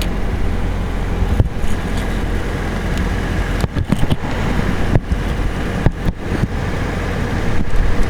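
Strong wind blusters outdoors near the ocean while a 1988 Nissan Silvia S13 is shown, a constant low roar buffeting the microphone with intermittent thumps and gusts.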